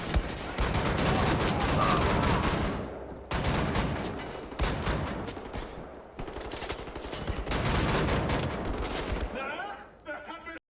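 Shotgun fire in a Wolfenstein: The New Order battle against Nazi soldiers, heard as dense, loud overlapping bursts of gunfire and blasts that run almost without a break, with short pauses between volleys.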